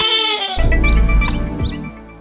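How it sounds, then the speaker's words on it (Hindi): A cartoon goat bleats in a loud, wavering, drawn-out call with rough vibrato, accompanied by light chirpy sound effects and a backing music bed. "बकरा बना साबू"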